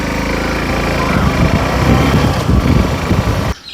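A 2023 Suzuki V-Strom SX motorcycle engine drones steadily while riding, loud and close with fluctuating revs and road rumble, then cuts off abruptly near the end.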